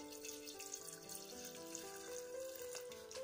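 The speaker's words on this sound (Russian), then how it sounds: "берем растворитель и заливаем его вот сюда" Solvent poured from a container into a vessel during a chromium(III) oxide preparation from GOI polishing paste, a steady close liquid pouring and trickling sound running continuously throughout.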